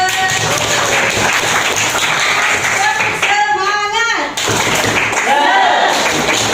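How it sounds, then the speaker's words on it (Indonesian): A classroom group claps together briefly beneath loud talking and cheering voices, the applause mixing with several people speaking at once. "Kita tepuk tangan dulu."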